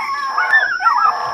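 A large guard dog under attack by a pack of four wolves gives continuous strained howling and whimpering cries, close and alone with no talk.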